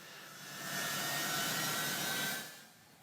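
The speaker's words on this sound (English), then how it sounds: "one of the US's largest cargo planes taxiing, laden with Afghans who did not want to be left behind." One of the largest US cargo planes taxis at the airport during the evacuation from Afghanistan, its jet engines giving a broad, steady whine and hiss that swells, holds for a while and then fades a little.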